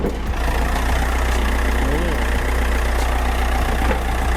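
A 2018 Mitsubishi Triton Single Cab 2.5 GL with a DID common-rail diesel engine idles steadily and loudly from close by, with a low, even clatter and no speech.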